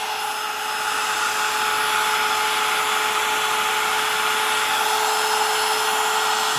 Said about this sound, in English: I think it's a 1-speed router.